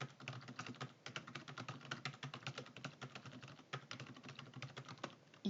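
Steady, fast typing on a computer keyboard while entering spreadsheet data in order, producing a dense, continuous patter of close key clicks with no talking.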